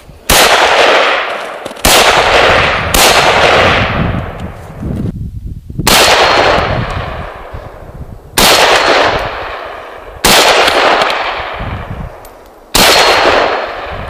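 Norinco M305 rifle, an M14 copy, fired outdoors: six loud, sharp single shots spaced a few seconds apart, each ending in a long echoing decay, with no talking.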